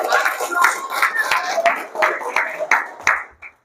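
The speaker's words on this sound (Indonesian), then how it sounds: "Beri aplaus dong." An audience claps at a coaching seminar, with a brisk run of sharp, fairly close hand claps lasting a few seconds before trailing off, and a voice faintly underneath.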